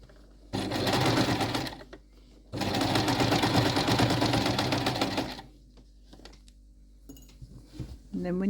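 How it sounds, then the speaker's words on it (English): A sewing machine runs in two fast stitching bursts, starting at a neck edge with a back tack, a rapid close mechanical chatter with a short pause between runs before it stops. "I'll start at the neck edge and I'll just get a back tack going there"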